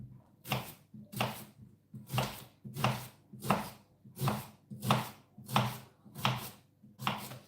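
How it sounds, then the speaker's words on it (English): A knife chopping onions on a board in a steady, even rhythm of about a dozen firm strokes, close and clear with brief quiet gaps between each cut, no speech. "I do find that when I'm cutting onions, I don't talk as much"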